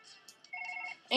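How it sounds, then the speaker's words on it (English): A phone in the video game Surgeon Simulator rings with a short, bright electronic tone, fairly quiet, ending in a sharp louder burst. "I want to answer the phone."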